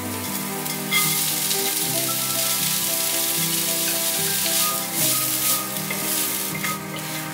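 Carrots and chopped celery stir-fry in hot oil, sizzling steadily and loudly at close range, with the scrape of stirring mixed in throughout.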